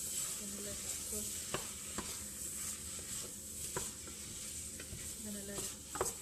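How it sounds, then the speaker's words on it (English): Chicken searing in a pan with garlic, ginger and onions, a steady close sizzle with occasional utensil scrapes and stirring clicks. "sear with those three stuffs that's here, with the garlic, the ginger, and the onions"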